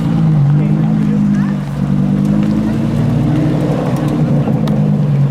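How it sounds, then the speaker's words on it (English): A Lamborghini Gallardo engine rumbles and revs steadily nearby at a car show, holding a deep growl as it pulls away, with a voice briefly audible over it. "there's a Gallardo leaving"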